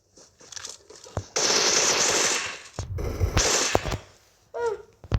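Gunfire in a video game: rapid automatic bursts and single shots crackle loudly in short volleys with brief pauses between them, close and sharp, with no talking over them.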